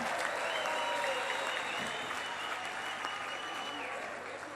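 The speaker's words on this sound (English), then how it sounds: "Can we have another round of applause," A large crowd gives a sustained round of applause at a formal address, dense and even throughout, slowly tapering toward the end.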